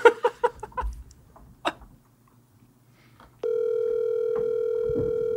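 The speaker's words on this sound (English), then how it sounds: "let's give him a ring. Ring him up." A telephone call being placed: a steady ringback or dial tone starts suddenly after a short quiet gap and holds loud and unbroken to the end, following some brief sounds at the start.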